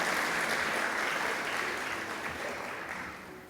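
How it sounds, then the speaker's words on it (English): Audience applause for African First Ladies at a Merck Foundation Africa Asia event, a fairly quiet, steady wash of clapping from a large crowd that slowly tapers off. "I think African First Ladies deserve a round of applause"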